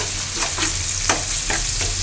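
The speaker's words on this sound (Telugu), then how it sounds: "ఇలా ఆయిల్లో కొంచెం ఫ్రై అవ్వాలి." Ginger-garlic paste fries in hot oil with a close, continuous sizzle, broken by several short scraping stir strokes at a loose, uneven rhythm. No voices are present.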